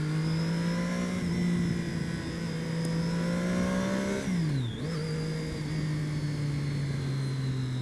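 Sport motorcycle engine while riding, a GSXR 750 or Daytona 675: a smooth, steady high-pitched drone held close, dipping briefly as the revs drop and then settling back to an even note.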